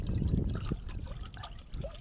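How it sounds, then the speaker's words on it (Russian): Water pours into a cooking pot hung over a campfire outdoors on a cold winter lake shore, a close, steady trickling splash lasting about two seconds with no talk. "Наливаем воды."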